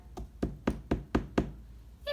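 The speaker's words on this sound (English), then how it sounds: "the minute I knocked on the door" Six firm knocks land on the door of a straw house at an even pace, close and distinct, with a brief voice starting right after.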